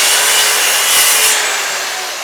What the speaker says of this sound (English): I'm going to line up my workpiece and I'm going to make a cut.